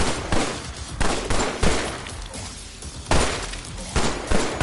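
Dual pistols fire in the VR shooter Killing Floor: Incursion, with sharp repeated shots in quick irregular bursts over a dense roar of game noise, loud and close.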